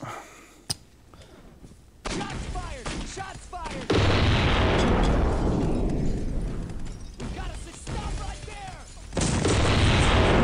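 Loud gunfire and heavy booms fill a Postal 2 gameplay scene, with one sharp isolated shot early, then dense chaotic blasts and reverberant crashes that build to a sustained roar; a voice talks faintly at the start.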